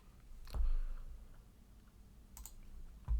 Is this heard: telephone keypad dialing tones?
no